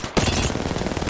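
Automatic weapon fire in the shooter Apex Legends, an abrupt loud burst of rapid, closely spaced shots rattling on continuously after a brief quiet start.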